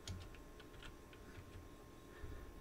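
A few quick keystrokes on a computer keyboard, soft close clicks in a short burst followed by a couple of scattered taps, with no talking.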